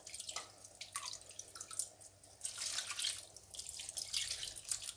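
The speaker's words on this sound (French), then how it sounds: "il faut au moins avoir 1 cm d'eau au-dessus de ce mélange. Donc, je vais mettre de l'eau." Water poured from a tap over a cassava leaf mixture for nsaka madesu, a close, uneven splashing and trickling flow with dripping bursts, fairly quiet, no talking.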